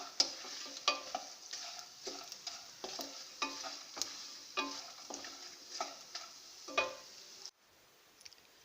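Nuts frying in oil in a wok, a steady quiet sizzle broken by regular scraping strokes of a stirring spoon about once a second, then stopping abruptly near the end.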